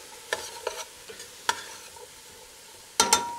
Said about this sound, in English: Our jalapenos. And our garlic. Let's give that a stir.